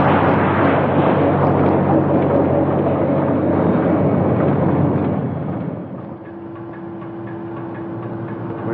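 A tram descends a deep shaft in a 1951 film: a loud, dense mechanical rumble and clatter holds steady, then drops to a quieter hum with a sustained tone.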